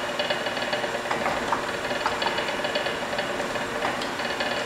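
Waste oil heater burning, its flame roaring in the chimney with a steady rumbling drone and irregular rattling and knocking, moderately loud and continuous with no voices.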